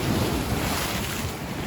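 Stormy sea surf crashing at night along the Yalta embankment, a loud, continuous roar of breaking waves with heavy wind noise buffeting the microphone, no voices.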